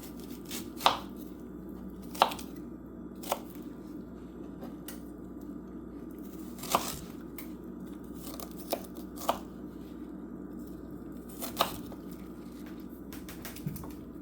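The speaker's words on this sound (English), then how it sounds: "you'll just have to use the knife to cut it off the seed" A knife cutting ripe peaches off the seed for peach cobbler, a soft steady background hum punctuated by about ten separate crisp cutting taps at irregular intervals, close by, no talking.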